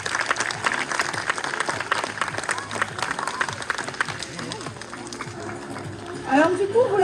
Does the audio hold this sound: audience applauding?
yes